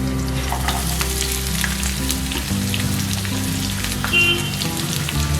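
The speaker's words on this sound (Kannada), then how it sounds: "ಇದು ಬಿಸಿ ಆಗ್ತಿರೋಂಗೆ ಬೆಳ್ಳುಳ್ಳಿ ಹಾಕ್ತೀನಿ, 10ರಿಂದ 12, ಹಾಗೆಯೇ ಒಂದು ಅರ್ಧ ಶುಂಠಿ, ಹಾಗೆಯೇ ಒಂದು ದೊಡ್ಡ ಸೈಜ್ ಈರುಳ್ಳಿ" Garlic, ginger and a large onion fry in hot oil for a chicken masala dish, giving a loud, continuous close-up sizzle with crackling spatter and occasional stirring scrapes, with no voices.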